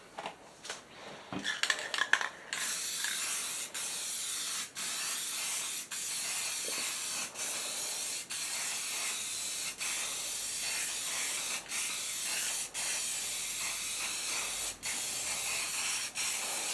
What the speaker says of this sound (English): now I'm just going to finish it up with some clear coat